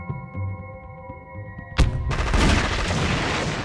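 Incoming mortar fire in the strategy game Army Men: RTS: a quiet tonal lull broken by one sudden loud blast, followed by a sustained roar of explosions and rumbling impacts.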